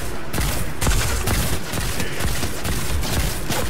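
A Stark Industries energy rifle fires in Fortnite, a fast, sustained stream of loud shots in tight rhythm, heard alone and without talk.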